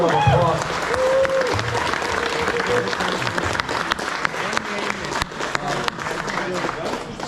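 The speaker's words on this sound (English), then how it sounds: "Give a round of applause." Audience applause at a community meetup for Rise of Kingdoms players in Frankfurt, steady dense clapping filling the room throughout with crowd noise and some voices underneath.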